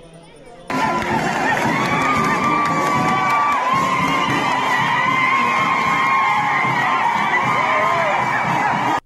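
A crowd in Masaya, Nicaragua, boos a police commissioner at the banned San Jerónimo procession: after a quiet opening, loud sustained crowd noise with shouts and yells swells in abruptly and holds to the end.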